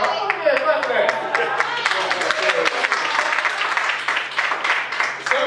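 Audience at a stand-up comedy show clapping in a steady, dense burst of applause that fills the room, with a comedian's voice heard alongside.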